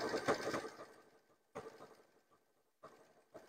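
Sewing machine stitching a decorative towel with tan thread, heard in short close bursts of rapid mechanical whirring separated by quiet pauses, with no talking.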